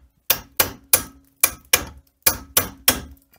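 A hammer strikes a chisel against a rusty crankshaft in eight sharp, ringing metallic blows, spaced unevenly at roughly one every third to half second, each decaying quickly to silence.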